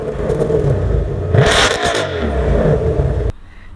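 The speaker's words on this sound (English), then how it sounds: "it makes a very interesting sound, which is an engine sound of a racing car." Earbuds play a gaming-mode racing car engine effect: a loud, close synthetic rev that surges sharply in the middle, holds a rumbling drone, then cuts off abruptly.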